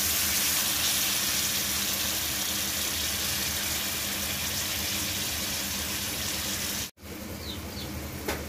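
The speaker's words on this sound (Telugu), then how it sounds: "ఇప్పుడు కట్ చేసి పెట్టుకున్న క్యాబేజీ వేసుకుందాం" Chopped cabbage fries in a hot pan with a dense, continuous sizzle that cuts off abruptly near the end, then resumes more quietly with faint scraping, no talk.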